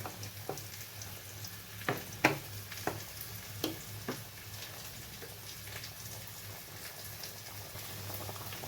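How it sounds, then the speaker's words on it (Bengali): A pot of fish curry made with soft bele fish bubbles gently on the stove, a low steady simmer broken by scattered soft pops and a few sharper clicks, fairly quiet and close with no talking. "বেলে মাছটা কিন্তু খুবই নরম খুব বেশিক্ষণ ফোটানো যাবে না খুব কিছু অল্প কিছুক্ষণ ফুটিয়েই নামিয়ে নেব"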